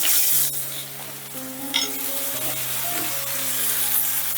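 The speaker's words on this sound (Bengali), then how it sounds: "এবারে ওই তেলেই ভেজে নেব বেগুনগুলো" Eggplant pieces fry in hot oil, a steady bubbling sizzle close by with a few soft stirring scrapes, continuous and unbroken throughout, with no talking.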